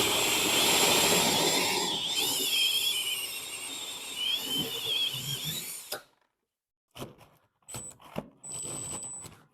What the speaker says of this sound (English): run the drill in reverse a little bit. Just go ahead and score the drywall